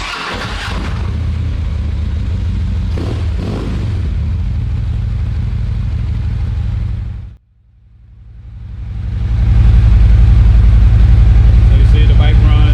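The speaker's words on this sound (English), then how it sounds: "So you see the bike runs, no problem with the bike running, starts up nice." A 2021 Gauntlet Grey Harley-Davidson Street Glide Special runs with a deep, loud engine rumble, dips sharply near the middle and then comes back stronger and fuller, with no voices over it.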